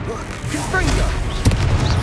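A Confringo spell blast in Hogwarts Legacy bursts amid ongoing combat, with a sharp boom punching through a steady rumble of battle noise and brief voice fragments.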